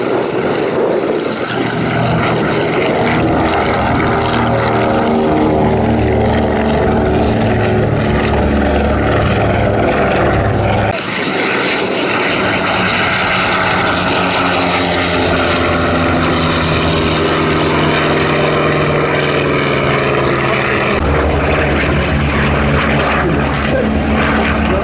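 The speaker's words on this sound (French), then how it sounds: "un bateau volant, appelez-le comme vous voulez, c'est une merveille, c'est un Catalina" Loud, steady droning of a Catalina flying boat's piston propeller engines at an airshow, a dense layered hum with a shift in pitch midway, continuous and close without any voices.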